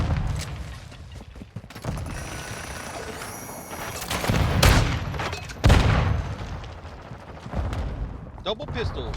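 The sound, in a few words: pistol gunfire in Call of Duty video game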